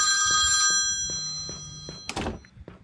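A telephone rings inside an Indian horror video game, with bright sustained electronic bell tones in the opening second, then low thumps and a sharp burst of noise toward the end.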